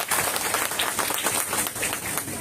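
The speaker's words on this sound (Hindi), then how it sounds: "एक बार जोरदार तालियां बजा लीजिए सर अपने लिए" An indoor audience at a direct selling seminar in India breaks into loud, dense applause that continues unbroken.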